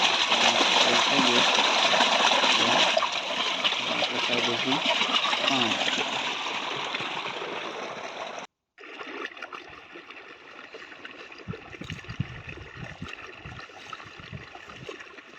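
Water rushes steadily along an irrigation channel in a sesame field, loud at first, then quieter after a brief cut, with scattered splashes and some talk over it.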